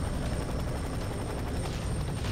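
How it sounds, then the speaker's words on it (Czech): Helicopter in the video game FEAR 3, a steady, dense rotor thrum and whine that fills the moment at an even, loud level with no voices over it. "A tu helikoptéru budeme muset taky sejmout"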